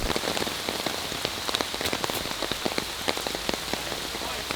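Rain falling on a disc golf course: a dense, steady patter of drops striking surfaces nearby, with sharper close hits scattered throughout and no voices.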